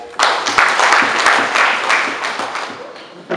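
Teachers at a teachers' union election meeting in Mbeya applauding themselves, a loud, close burst of crowd clapping that runs steadily for a few seconds with a voice briefly audible.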